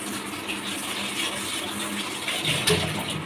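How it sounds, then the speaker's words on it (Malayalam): Water is poured into a pan of mixed root vegetables for a stir-fry, a continuous close gushing splash that swells briefly near the end, with no voices. "ആവശ്യത്തിന് കുറച്ച് വെള്ളം ഒഴിച്ചാൽ മതി"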